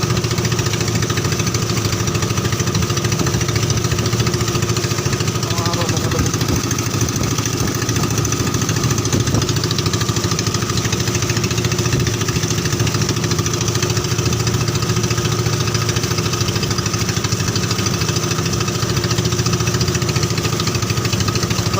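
A fishing boat's engine drones steadily while the boat is out at sea, a constant mid-pitched chugging hum that stays even and unbroken throughout, with no talking.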